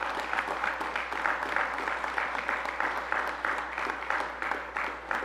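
An audience applauds the governor at a county press conference, with steady, moderately close clapping that holds evenly throughout.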